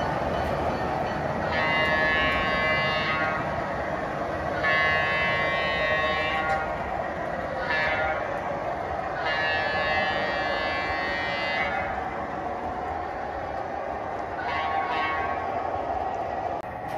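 A model GE 44-tonner locomotive pulls a train of 18 heavy die-cast intermodal cars, giving a continuous rolling rumble broken by several sustained horn blasts in a row.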